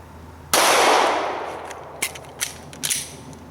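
A Glock 19 handgun fires at targets, opening with one loud, sharp shot whose echo rings and slowly fades, followed by three quicker, fainter cracks spaced about half a second apart.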